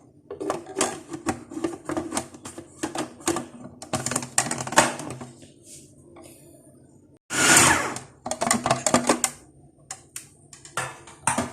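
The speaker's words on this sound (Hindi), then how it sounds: "अब ये तमाम चीज़ें जाएंगी चॉपर में" An electric chopper whirs in bursts as it minces a spiced minced-meat mixture for seekh kabab, loud choppy grinding pulses with brief pauses and a strong burst midway, close and without talk.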